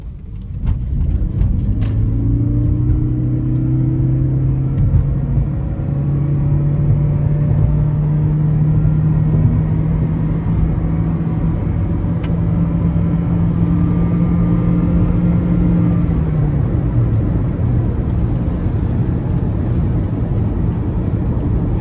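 A 2011 Toyota Prius with a 1.8-liter naturally aspirated four-cylinder and CVT accelerates hard, its engine droning loud and steady at near-constant pitch from inside the cabin for about fifteen seconds before easing off.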